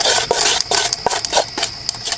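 Dried salt being scraped off the sides of a pan, a sequence of close, gritty rasping strokes with short sharp scratches repeating quickly and unevenly.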